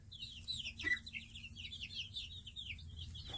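Chickens, including a buff Orpington and Rhode Island Reds, cluck and chatter continuously in high, busy bursts, fairly faint, with a low steady hum underneath.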